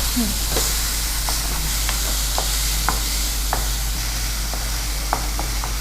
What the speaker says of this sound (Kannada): ಒಂದು 2 ಕಾಯಿಮೆಣಸು ಹಾಕಿದ್ದೇನೆ. ಒಂದು ತುಂಡು ಶುಂಠಿ. ಓಕೆ. ಸ್ವಲ್ಪ ಫ್ರೈ ಆಗಿದೆ.